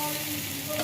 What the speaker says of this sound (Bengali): এবার মশলার সাথে কষিয়ে নেব কিছুক্ষণ